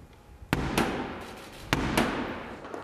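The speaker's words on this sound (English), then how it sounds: "Close the door. The bang on the door." At the 2021 State Opening of Parliament, a heavy door is struck with two sharp, resonant bangs, each echoing briefly in a large stone hall over quiet ambience.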